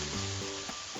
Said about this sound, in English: she's going to continue stir frying and separating the grains until they're coated